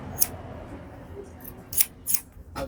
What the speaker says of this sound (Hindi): हमें एक सिंपल हेयर कट बच्चों का कैंची और कंघा की मदद से करना है